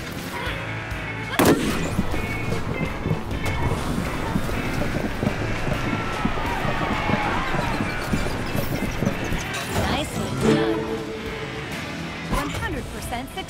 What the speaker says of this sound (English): Here comes the rapid fire.